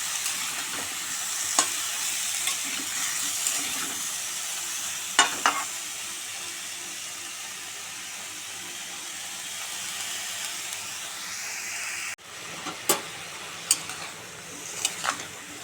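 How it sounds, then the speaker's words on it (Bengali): Vegetables with salt and turmeric are stirred in a hot pan, giving a soft, continuous sizzle with a few sharp scrapes of the spoon. A lid-like clank cuts in near the end, followed by more light taps. "ভালো করে নেড়ে ফেড়ে দেবো"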